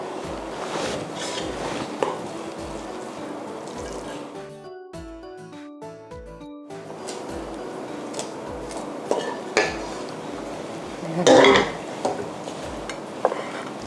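Plates and utensils clink and scrape while stir-fried tofu khua kling is spooned onto a serving dish. The knocks are close and irregular, with a brief quieter pause partway through.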